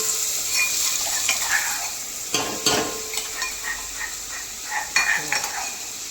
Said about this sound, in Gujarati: ચલો કંકોડા વઘારીએ પછી બતાવો.